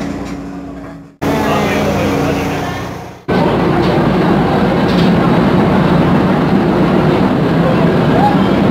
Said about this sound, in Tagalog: Thank you sa ride, PNR. Bagong train.